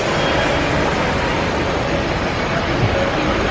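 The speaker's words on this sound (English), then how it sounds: "this tram is now ready to depart" A Disneyland tram pulls away, a steady loud broadband rumble of wheels and motor running continuously close by, with no clear voices over it.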